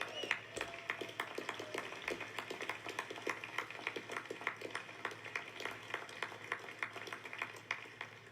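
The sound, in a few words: applause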